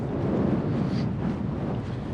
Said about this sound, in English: The wind is picking up a bit, just nudging up at 30 mile an hour gusts now